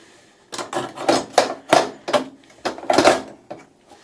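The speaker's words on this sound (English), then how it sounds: "I'm just going to put this back in, put a couple of screws back in and try it again" Screws are fitted back into a device, making a series of about ten close, separate scraping and clicking handling knocks at an uneven rhythm, with no talk.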